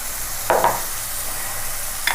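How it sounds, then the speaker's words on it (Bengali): Onions frying in hot oil for a Bengali katla fish curry give a soft steady sizzle, with two brief louder stirring scrapes in the pan. "পেঁয়াজটা একটু ভাজা হবে"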